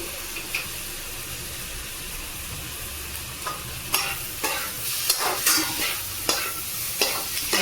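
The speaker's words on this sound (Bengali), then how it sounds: "করে নেড়ে চেড়ে নেবো একটু ভালো করে একটু টস করতে হবে" Maggi noodles with soy sauce are stirred and tossed in a hot pan. A soft, steady sizzle runs throughout, and scraping and clattering strokes from the utensil get more frequent toward the end.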